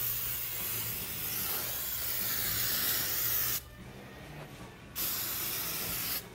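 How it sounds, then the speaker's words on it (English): Spray bottle misting onto bed pillows in a vacation rental, a steady broadband hiss in long bursts with brief pauses between sprays, close and fairly loud. "I'm gonna spray these pillows."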